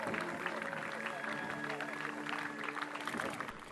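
Long, sustained applause from a large outdoor crowd near a church at a funeral for three victims as the coffins arrive, a steady faint patter of clapping beneath a voice talking throughout.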